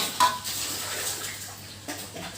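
Sambal made with beef lung is cooked down until dry in a wok. A metal utensil clinks and scrapes sharply against the pan a couple of times, with quieter stirring in between and no talking.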